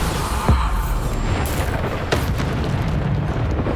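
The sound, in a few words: Bombarda spell explosion in video game Hogwarts Legacy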